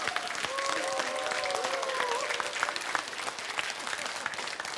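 An audience at a health seminar claps hard and continuously, a thick wash of hand claps with a few whoops and raised voices briefly audible near the start.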